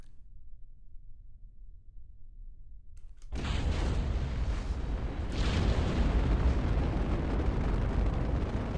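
A rocket engine in Kerbal Space Program ignites abruptly after a quiet stretch and settles into a loud, sustained launch roar that swells further a few seconds in.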